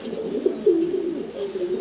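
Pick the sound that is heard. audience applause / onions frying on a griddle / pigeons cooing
pigeons cooing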